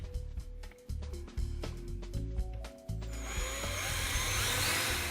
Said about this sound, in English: With our hole drilled through our cabinet, 5/8